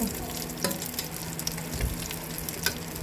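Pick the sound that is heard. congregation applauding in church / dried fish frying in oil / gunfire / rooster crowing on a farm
dried fish frying in oil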